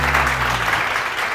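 Studio audience applauding on a television morning show, a dense, steady burst of clapping that holds at full strength throughout, with a low hum underneath at the start.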